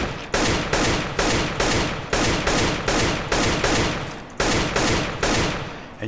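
Rapid gunshots ring out in an aim-training game against moving bots, about fourteen evenly spaced loud reports, each followed by a short decaying echo, with no voices.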